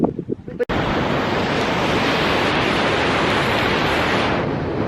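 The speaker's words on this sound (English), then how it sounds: "as you can see behind me, we actually just made it to the waterfall" A steady, loud roar of rushing water fills the air after an abrupt start, broad and constant like a large waterfall nearby, with wind buffeting.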